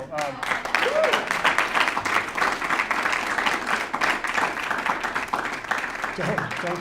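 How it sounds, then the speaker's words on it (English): Audience applauding a speaker's testimonial about running the Boston and New York City marathons, a steady wash of clapping that rises quickly and fades out as a voice resumes. "don't clap too much."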